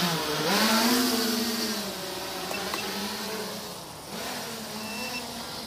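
FPV drone motors spinning during a test before acro flight give a buzzing, insect-like whine that rises and falls in pitch as the throttle changes, close and fairly loud, with no speech.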